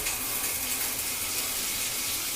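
Tap water runs steadily into a sink while a trombone is being cleaned, a continuous close hiss and gush with no pauses or voices.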